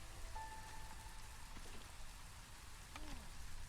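Steady rain ambience from the video game Against the Storm, a continuous hiss of drops falling on surfaces. A few faint tonal game interface chimes sit over the rain, with no voices.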